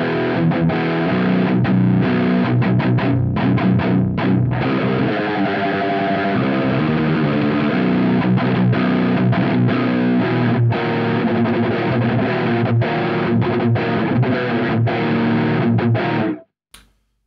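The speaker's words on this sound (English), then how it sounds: "So now we have the distortion knob at around 11 o'clock." An electric guitar played through a Boss MEGA DISTORTION pedal with the distortion knob at about eleven o'clock, giving a loud, dense, saturated tone with sustained chords and quick palm-muted chugs, stopping abruptly near the end.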